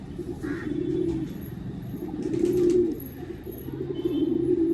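A pigeon coos in low, steady, rolling phrases close by, repeating through a quiet loft with faint chirps in the background.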